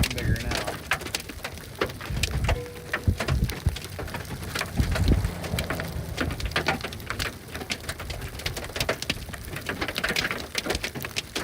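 Hail falls during a severe storm near Kit Carson, Colorado, amid a tornado outbreak. Dense, irregular clattering impacts rattle continuously against a surface, loud and close, with a rain-like wash underneath.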